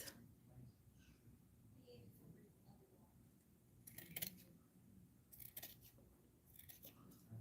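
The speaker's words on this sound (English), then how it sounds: "can you trim this pom-pom down some?" Scissors snip at a fleece pom-pom in a quiet room, a few soft, close cuts coming in short bursts between stretches of near silence with faint background murmur.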